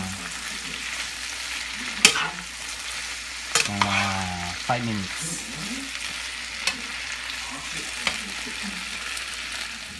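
Utensil scraping and stirring tomato and pork in a frying pan over a steady sizzle, with a few sharp clinks and a brief voice.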